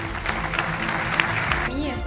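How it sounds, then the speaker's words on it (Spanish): Audience applause at the opening ceremony of a town fair in Argamasilla de Alba, a short burst of clapping heard under a voice over a loudspeaker. "un fuerte aplauso"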